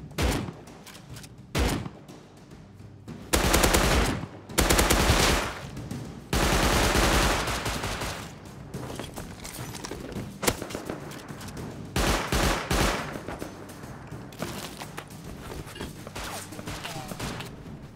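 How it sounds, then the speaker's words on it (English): Eoka pistol gunfire during a raid in the video game Rust, with bursts of loud shots and rapid fire in clusters across the clip, mixed with other game noise. "that sounds like an Eoka raid"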